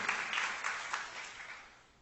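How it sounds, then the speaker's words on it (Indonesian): A church congregation applauds together in a brief burst of dense clapping that fades away over about two seconds, quiet and somewhat distant. "Tepuk tangan yang meriah untuk kemuliaan nama Tuhan."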